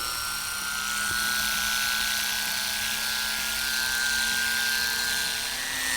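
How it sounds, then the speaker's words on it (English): Electric beard trimmer buzzing steadily and up close as a barber trims a customer's beard, a continuous high whine with no talk. "it's time to start trimming the beard"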